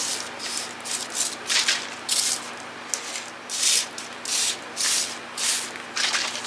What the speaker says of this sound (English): Just rubbing it into this baby leaf.